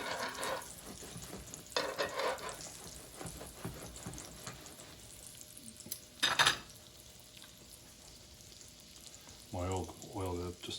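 German schnitzel frying in hot oil, a soft continuous sizzle with scattered pan and utensil clatter and a sharp burst, with someone talking over it at times.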